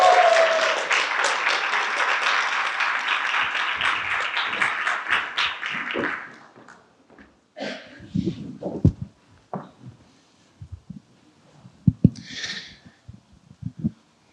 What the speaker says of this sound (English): Will you join me in celebrating and applauding them for being here tonight?